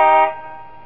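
A car horn in the video game Five Nights at Wario's 3 sounds one short, loud honk in a garage scene, then a sustained tone that quickly fades under a second.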